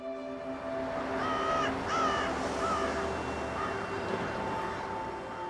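Crows cawing, several harsh repeated caws in a cluster near the middle with a few scattered calls after, moderately close against a steady low background hum.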